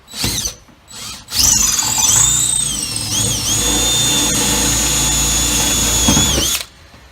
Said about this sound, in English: I've got a 3/16 drill bit in my cordless drill. I'm drilling out the old rivet.